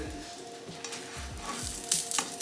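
A single large two-ingredient keto pancake fries in a pan, giving a soft, close sizzle and crackle with a few faint scrapes of a utensil, rising to brighter hissing bursts near the end.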